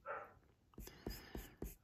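A dog barks several times in short, evenly spaced bursts from the background, faint and somewhat distant indoors, following a quiet whispery sound at the start.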